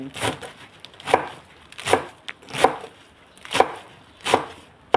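Steady knife chops through Chinese kale on a board, about one every second, close and crisp, with no voices.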